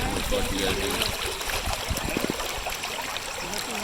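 River water flows and gurgles steadily at a crocodile-infested crossing, with a continuous close rush and some splashing texture.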